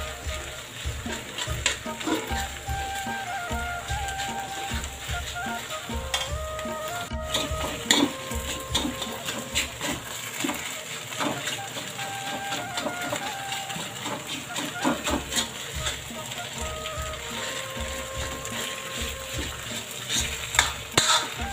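Sira, a semolina pudding, stirred in a pan with a utensil, giving a rhythmic scraping and soft sizzle, close and moderately quiet, while someone talks over it.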